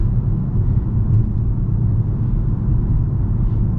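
A 2024 Acura TLX sedan in sport mode, heard from inside as a steady, loud low engine and road rumble with no voices.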